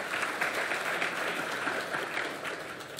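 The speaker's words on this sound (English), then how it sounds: "So a round of applause for our panelists that will be speaking." An indoor audience applauds panelists, a steady dense clapping that stays loud and even for a few seconds, with no voices over it.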